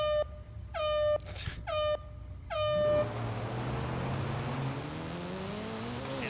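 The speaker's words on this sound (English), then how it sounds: "okay, do the honking, I'm ready." Car horn honks in Forza Horizon 5 during dirt oval racing: four loud sustained blasts in quick succession, cut off abruptly, followed by a steady racing engine drone.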